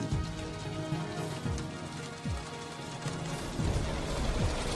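Rain falls steadily on the stone walls of a prison, a dense continuous patter with scattered heavier drops and splashes, close and moderately loud, with no voices.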